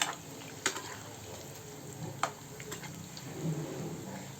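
Onion bondas frying in hot oil, a soft continuous sizzle with occasional sharp clicks of a utensil against the pan, fairly quiet and close, without speech.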